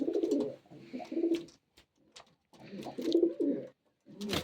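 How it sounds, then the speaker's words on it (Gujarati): Pigeons cooing close up in a loft, two bursts of throaty rolling coos separated by brief pauses, fairly loud and clear with little else around them. "બધા કબૂતર ઉપર બેઠા હે."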